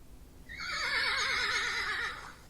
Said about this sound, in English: Played the horse sound.